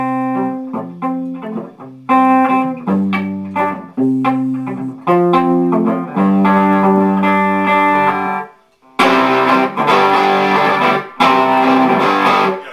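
Electric guitar played through a VHT Special 6 tube amp head, crunchy and distorted, picked notes and chords ringing out loud, with short pauses between phrases.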